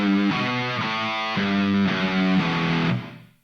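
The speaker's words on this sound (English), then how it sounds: "that creates a little bit of echo, and you can kind of hear a little bit of tail at the end" An electric guitar run through a delay effect plays a steady string of notes, with a soft echoing tail fading out over the final half second; no voices.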